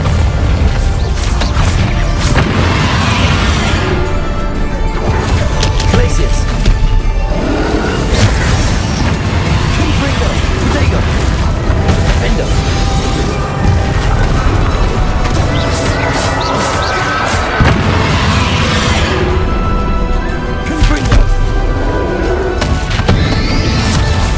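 Bombarda blasting spells and other combat spells in Hogwarts Legacy, heard as loud, repeated booming explosions and crashing impacts with rumbling debris, dense and continuous over a busy battle soundscape.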